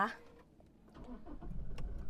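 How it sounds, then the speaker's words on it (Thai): A 2021 Toyota Fortuner Legender 2.4 2WD engine cranks and catches, its rumble building up to a steady run, with a brief voice at the start. "นี่เวลาเราสตาร์ทรถนะคะ"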